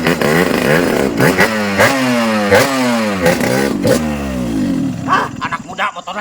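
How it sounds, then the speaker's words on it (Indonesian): A motorcycle engine revs hard in repeated loud bursts, pitch climbing and dropping several times close by, with clattering and a rougher idle toward the end. "Dengekeun motor urang."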